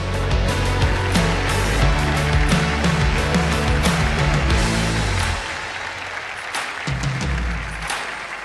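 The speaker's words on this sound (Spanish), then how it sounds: "el aplauso para todos los que siembran, para los que dan" Audience applause at a church event, a dense wash of clapping that stays strong for about five seconds, then thins and carries on more quietly.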